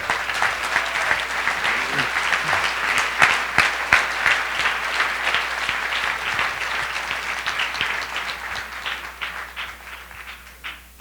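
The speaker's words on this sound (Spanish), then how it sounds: "Dale un aplauso al Rey, por favor." A church congregation at a Sunday service applauds for the King, dense continuous clapping that stays loud and gradually tapers off toward the end.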